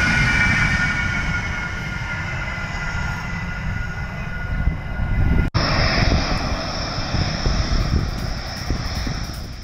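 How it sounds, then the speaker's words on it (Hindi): A Rafale fighter jet lands at Jamnagar, Gujarat, its engine giving a loud, continuous roar and whine that holds steady and shifts tone partway through after a brief break. "जामनगर गुजरात में इस राफेल की लैंडिंग हुई है"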